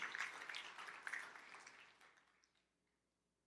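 A church congregation applauds with dense, lively clapping that thins and fades into near silence after a couple of seconds.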